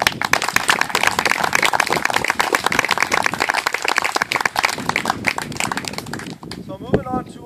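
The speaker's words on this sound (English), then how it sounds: "parents, please give him a huge round of applause" Audience of kids and parents clapping at an awards ceremony, dense steady applause filling most of the clip before fading out as a voice begins speaking at the end.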